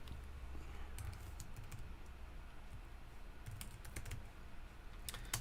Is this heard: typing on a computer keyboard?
yes